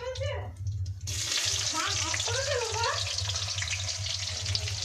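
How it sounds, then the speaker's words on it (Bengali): Chopped onions drop into a hot kadai and break into a sudden, steady frying hiss that carries on loudly, with faint voices and a low rhythmic hum in the background. "কড়াইতে এখন আগে থেকে কেটে রাখা পেঁয়াজগুলো সব দিয়ে দিচ্ছি"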